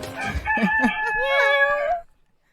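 A rooster crows once, loud and close, a drawn-out cock-a-doodle-doo with a rising then falling call that ends abruptly and gives way to silence.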